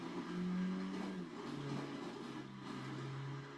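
A taxi car driven in GTA V, the engine revving up and settling into a steady mid-pitched drone, fairly faint and alone.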